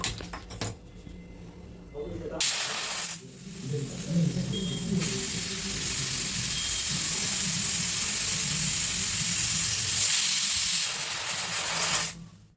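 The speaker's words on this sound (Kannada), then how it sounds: "ಕುಕ್ಕರ್ನ ಸ್ಟವ್ ಮೇಲೆ ಇಟ್ಬಿಟ್ಟು ಒಂದು 2 ಸಲ ಕೂಗಿಸ್ಕೊತಾ ಇದ್ದೀನಿ" A pressure cooker on a stove, cooking onions and greens for a village-style soppina sambar, lets out a loud, sustained hiss of steam that runs for several seconds and then cuts off, with a short quieter burst before it.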